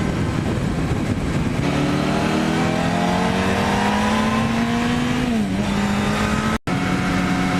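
A motorbike rider rolls back into the throttle after a turn, the engine note climbing steadily in a rising whine over loud wind rush, dipping briefly before pulling up again; a sudden dropout near the end, no voices.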